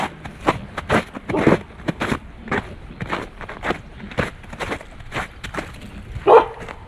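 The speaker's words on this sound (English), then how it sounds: "Somebody's dog." A dog barks on a winter hiking trail at Reforestation Camp, several short barks at middle distance with footsteps crunching in between.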